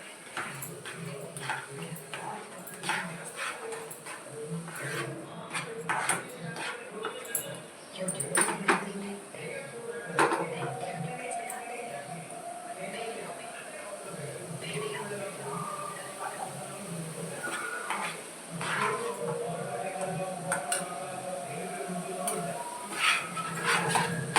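Carrot halwa stirred in a pan over the flame, a spoon scraping and knocking against the metal in irregular clinks and scrapes through the whole stretch, moderately close, with background voices.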